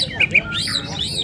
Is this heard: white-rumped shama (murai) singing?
yes